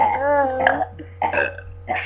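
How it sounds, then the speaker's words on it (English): One long, loud, tonal burp from a person during a burping contest, followed by brief bursts of other sound. "I can burp on command."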